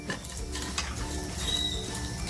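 Coriander seeds and whole spices being dry-roasted and stirred in a pan, with steady scraping and light clinking of a utensil against metal under a faint continuous sizzle, no speech.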